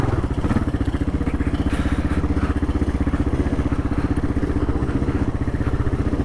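A KLR650 motorcycle ridden on a rough off-road trail, its single-cylinder engine thumping in a fast, even pulse, loud and close, with clatter from the rough ground.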